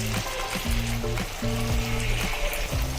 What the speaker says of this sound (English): This is the first round of chicken that I'm frying.